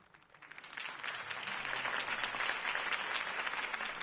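A video game crowd bursts into applause that swells quickly, then holds as steady, dense clapping.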